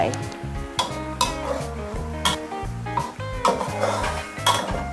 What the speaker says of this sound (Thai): เจียวกระเทียมนี่ต้องคอยคนนะคะ เพราะกระเทียมเนี่ยเขาจะเหลืองไว